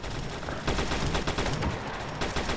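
Sustained gunfire in a World War II video game, a dense, loud rattle of overlapping shots and impacts filling the whole stretch with no pause.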